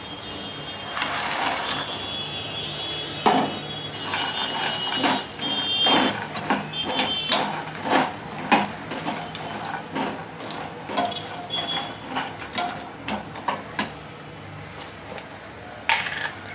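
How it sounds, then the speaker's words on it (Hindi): Fox nuts (makhana) tumbling into a pan and being stirred, giving a run of sharp dry rattles and scrapes that grow busier and irregular, heard close up with no talk. "अभी इसमें मैं मखाना डालूंगी।"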